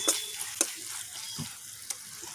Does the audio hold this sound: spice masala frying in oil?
yes